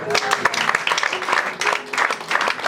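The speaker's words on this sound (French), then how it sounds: "Acclame pour toi-même." An audience bursts into applause: loud, dense clapping sustained close-up, with a voice briefly audible.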